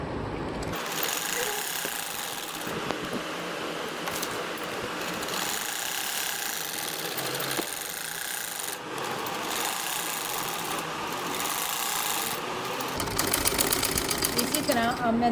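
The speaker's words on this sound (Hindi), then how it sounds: "अब हम इसके लास्ट एज पर इसको सिलाई लगाएंगे" A sewing machine stitches the last edge of a poncha, its motor running in a continuous whirring drone with rhythmic needle clatter, pausing briefly between passes and rising louder toward the end, with someone talking over it.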